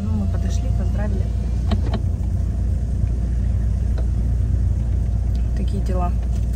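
A car drives along a road in Spain with a steady, close low rumble of engine and tyres inside the cabin while people talk over it.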